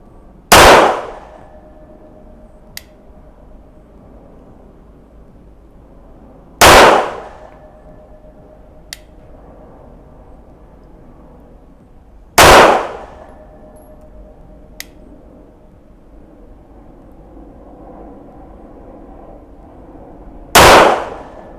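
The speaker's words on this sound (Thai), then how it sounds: "บ 10 เมตร อ่ะ ลองนะครับ กับตัวซิก 220พร้อมครับ" Four loud, sharp pistol shots from a SIG P220 fired at a 10-metre target, spaced about six seconds apart with a faint metallic clink between each, with no talk.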